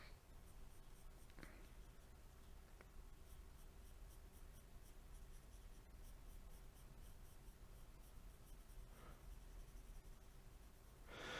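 A pencil sketches lightly across paper with almost no pressure, a faint, continuous soft scratching with a few slightly louder strokes, close and quiet with no voices.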